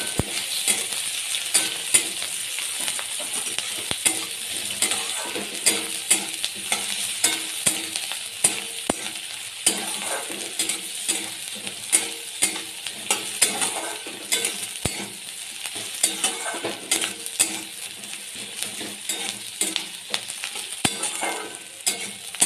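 Chopped onion and green chillies fry in hot oil in a pan while being stirred, a steady close sizzle with frequent scraping and clinking stir strokes throughout, no talking.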